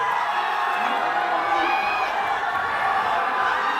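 Spectators at a bouldering final cheer and shout without pause as a climber works up the wall, a loud and rising crowd noise with whoops mixed in and no clear speech.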